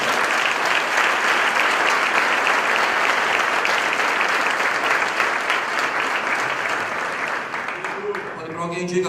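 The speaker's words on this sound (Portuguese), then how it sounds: "Você pode aplaudir a Jesus?" A church congregation applauding loudly and continuously at close range, a dense wash of clapping that holds steady and then thins out near the end as a voice begins to come through.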